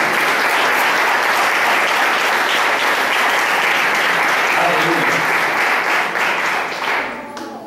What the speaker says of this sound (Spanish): den un aplauso para el maravilloso